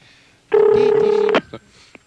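A single close, loud telephone ring lasts under a second in a radio studio, followed by a faint click.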